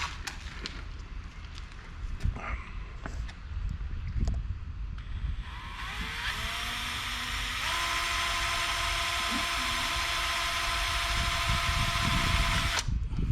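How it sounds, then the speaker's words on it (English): After some handling knocks, a power drill spins up and grinds steadily through a metal window channel for several seconds, close and loud, then stops abruptly. "I'm gonna drill just through the first layer with this"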